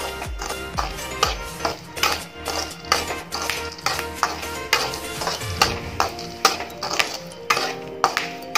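Chickpeas being roasted in a pan over a raised gas flame while stirred continuously, giving a steady run of sharp scraping strokes and rattling taps roughly twice a second, close and fairly loud, with no talk.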